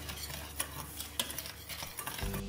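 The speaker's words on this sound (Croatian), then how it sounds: "pa ću sve kratko promiješati." A spoon briefly stirs powdered cake glaze mix with added sugar in a bowl, giving a quiet, scraping swish with a few light clicks against the side.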